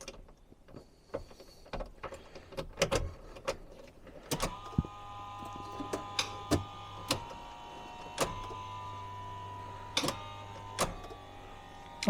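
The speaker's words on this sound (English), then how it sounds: "I'm just going to prime the fuel system a couple times just to see if we have any leaks or not." Fuel pump on a cheap Jaguar primes after the battery is reconnected, a steady electric whir starting partway in and holding, with repeated sharp mechanical clicks and relay ticks spaced through it, close and fairly loud with no talk.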